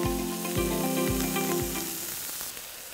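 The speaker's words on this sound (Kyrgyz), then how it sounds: "Сабизди да ошондой эле бисира куруп алабыз." Sliced carrots sizzle steadily in a hot oiled pan, a close, even hiss with a few periodic low thumps as the food is stirred, and no talking.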